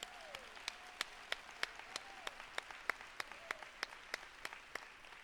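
A graduation awards ceremony audience applauding the class of 2021: sparse, evenly spaced handclaps from a modest crowd in a hall, fairly faint and steady throughout.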